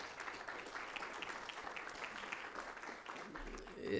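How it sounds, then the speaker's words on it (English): An audience at a Latino state-of-the-state forum on Arizona gives a round of applause, moderately distant and continuous, with a voice starting to speak just at the end. "To all of you, a big round of applause"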